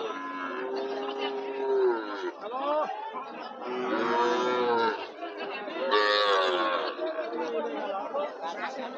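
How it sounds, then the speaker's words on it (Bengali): Cattle at a livestock market selling Sahiwal and Burma heifers, with repeated moos and lowing calls across the clip, near and fairly loud, over a murmur of crowd chatter. "পাশে পাশে কিন্তু প্রচুর পরিমাণে বকন আছে"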